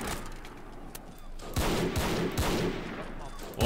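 A WWI rifle volley at Gallipoli in the game Battle of Empires 1914-1918: scattered distant cracks and battle noise, then several close, loud shots in quick succession.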